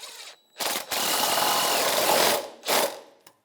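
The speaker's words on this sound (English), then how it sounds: "I'm going to tighten up the other two, all 13mm sockets." A power tool whirs in bursts, a short burst then a long steady run and another short burst, driving a 13mm socket to tighten lock nuts on the front differential mounts of a 1998-2011 Ford Ranger 3.0L V6, close up with no talking.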